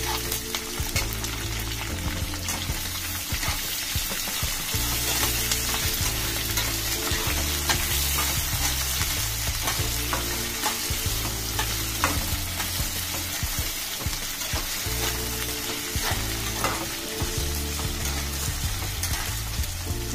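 Onion, potato and carrot pieces frying in a pan for wheat rava upma, a continuous close sizzle with stirring scrapes and a low hum beneath, no voices.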